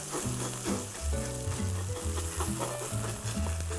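An oyster and green seaweed pancake fries in oil in a pan, giving a steady close-up sizzle and crackle with small pops throughout.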